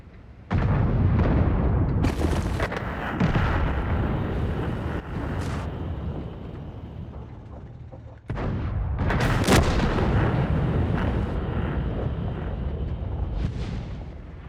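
Two heavy booms from a Charioteer tank destroyer's gun in World of Tanks, each a loud close blast followed by a long rumbling decay, separated by several seconds of fading roar.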